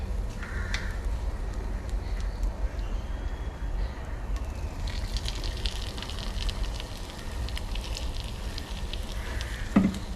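Masala-dipped bread and egg toast frying in a pan, a steady soft crackle and sizzle close by, with faint kitchen clatter.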